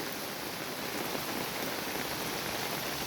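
Heavy rainy-season rain pours down in a dense, steady hiss, loud and unbroken throughout, with no voices.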